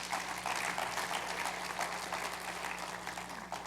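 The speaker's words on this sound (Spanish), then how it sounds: "denle un aplauso al Señor" In church, a congregation gives sustained applause, a broad crackle of many hands clapping at a steady level, fairly distant and even, with a faint low hum underneath.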